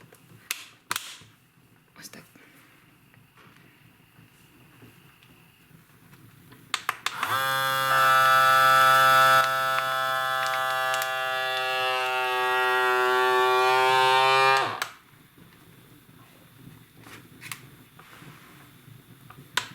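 A vacuum sealer pump drones with a steady mechanical hum for several seconds while sealing a bag of fresh mushrooms, starting and stopping abruptly, with a few clicks before and after.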